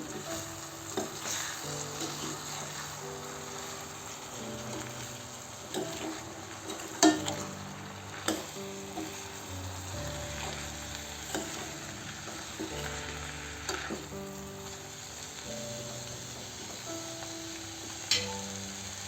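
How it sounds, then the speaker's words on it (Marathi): Sprouted moth beans frying and being stirred in a pan, a soft continuous sizzle with intermittent scraping and clinks of the spoon, fairly quiet, under faint background music. "यात मोठ घालू आणि चांगल्याने फिरवून घेऊ"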